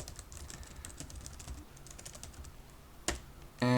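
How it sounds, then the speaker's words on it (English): Typing on a computer keyboard: rapid, steady key clicks close by for a few seconds, then a sharper tap near the end. "So we type service registry"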